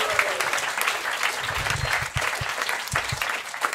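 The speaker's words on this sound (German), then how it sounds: "Nochmal Applaus für, wie heißt du, mein Freund? Mustafa." Audience at a live stand-up comedy show breaks into sustained applause, a close, lively patter of many hands clapping, with scattered sharper claps standing out.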